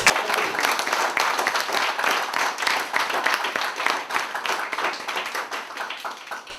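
Audience applause for senior secondary school students at a school quiz event, a dense steady wash of many hands clapping that carries on loudly throughout without any talk.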